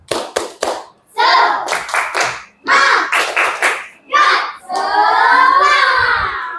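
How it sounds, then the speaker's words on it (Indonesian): A primary school class in Langsa does a rhythmic spirit clap: loud bursts of many hands clapping in patterned groups, ending in a long chanted shout from the children. "Oke, tepuk semangat."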